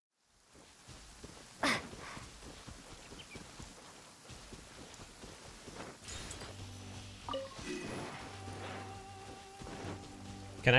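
Rain falling in the Genshin Impact video game, a soft steady patter of drops spread across the clip with a few louder taps and thumps, quiet overall.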